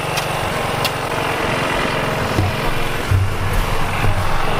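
A scooter engine runs steadily during a front-end repair, a continuous close buzzing drone with a few small revs and metallic knocks.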